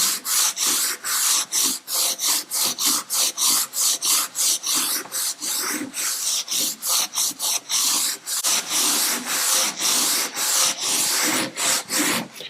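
Rapid, steady rasping strokes of abrasive scrubbing rust off a German cavalry sword blade, rhythmic back-and-forth, close and loud with no talking.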